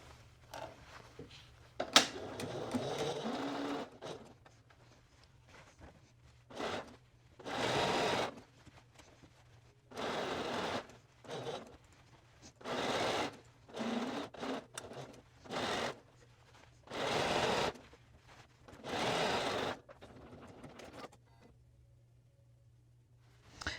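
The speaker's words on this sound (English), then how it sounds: "So we're just going to sew this seam now at 1/2 inch seam allowance." A home sewing machine stitches a shorts seam at a half-inch allowance in repeated bursts of several seconds each, separated by short pauses, fairly close and clear with no talking.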